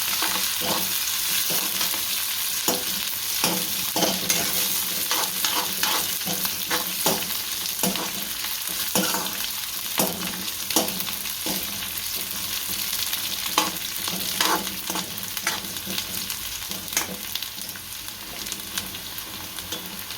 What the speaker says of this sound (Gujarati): કાંદાને હલાવી નાખશું